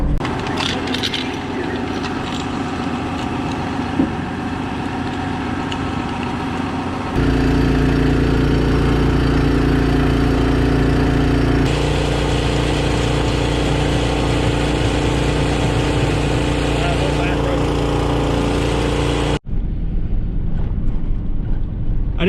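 Ford F-250 pickup in poor health, towing a heavy trailer up a gravel hill, its engine droning loud and steady under strain, with a rougher shift partway through and a brief drop near the end.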